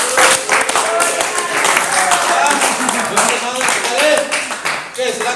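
An audience at a vocational school teacher-training class session claps for the final presentation group, a steady dense patter of many hands filling the room, with voices faintly underneath.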